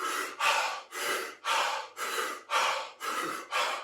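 Quick, shallow breaths drawn into the top of the lungs, about eight rhythmic airy inhale-exhale pulses in a steady pattern, close and fairly soft, with no talking.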